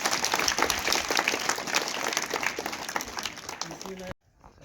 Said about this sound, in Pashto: عبدالودود خان اڅکزي په چکچک یې بدرګه.